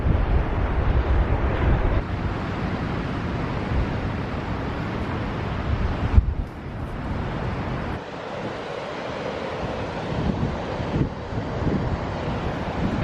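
Strong ocean wind at Mussel Rock by a cliffside trail roars and buffets the microphone in heavy gusts, with surf rumbling underneath and a brief lull midway, no talking.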